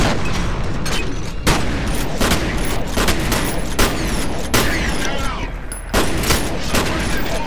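Shotgun blasts in the video game F.E.A.R.: loud booming shots at irregular intervals over dense continuous combat noise, close and heavy, with voices speaking over the action.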